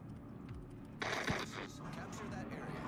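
Naval gunfire from the USS Missouri battleship in World of Warships: a muffled distant boom with a brief crackling rumble, faint beneath continuous game sound and someone talking.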